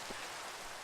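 Steady rain in the blocky sandbox game Minecraft on a skyblock island, a soft, even broadband hiss of falling drops with no clear breaks, moderately quiet and continuous.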